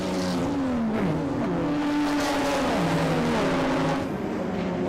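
Historic racing cars on lap 1 of 8 at Winton circuit, engines roaring loud and continuous with rising and falling pitch as the pack passes and accelerates.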